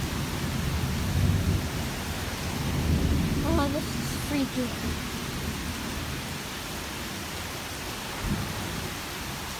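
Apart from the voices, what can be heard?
thunder and rain during a thunderstorm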